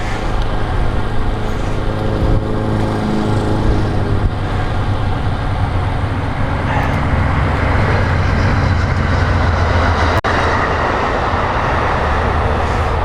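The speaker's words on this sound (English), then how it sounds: "You just heard the train go by." A train rumbling past outdoors along a cross-country bike route, a steady loud low roar with rolling rail noise lasting throughout, no talking.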